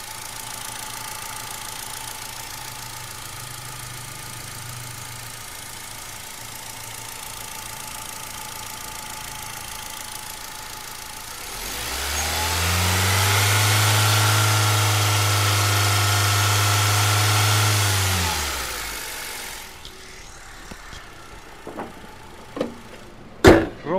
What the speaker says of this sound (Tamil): இன்ஜினோட நாய்ஸும் நான் உங்களுக்கு மைக்கு பக்கத்தில் வச்சு எப்படி இருக்குன்றதை காட்டுறேன்.